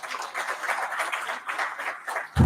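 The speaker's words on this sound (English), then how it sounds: "give a round of great applause to our panelists" An audience at a plenary lecture session applauds its panelists with steady, moderately loud clapping that continues throughout, ending with a sudden low thump.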